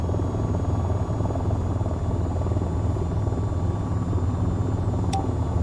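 An AH-94 attack helicopter in the flight simulator game VTOL VR gives a steady, dense rotor and engine drone, loud and unbroken throughout, with no talking.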